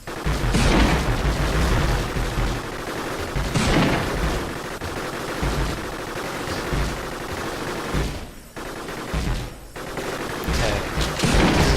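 Repeated punchy shotgun blasts from battling robots in Gladiabots crack out across the clip, loud and dense, with some quieter gaps between the bursts.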